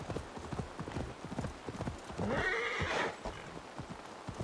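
Horse galloping in Assassin's Creed Valhalla, rapid rhythmic hoofbeats throughout, with a loud whinny rising over them near the middle.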